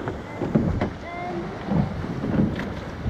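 Rowing boat in an under-19 women's long course surf race at Waihi, moving over waves with splashing water and steady wind noise, a few soft strokes audible with faint distant voices.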